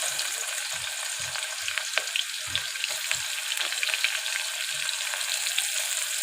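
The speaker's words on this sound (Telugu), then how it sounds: "ఇప్పుడు ఆయిల్ కాగింది. ఇప్పుడు ఆనియన్స్ అనేది వేసుకోవాలి." Onions fry in about four spoons of hot oil, producing a continuous bright sizzle with intermittent low thumps from stirring, steady and close throughout.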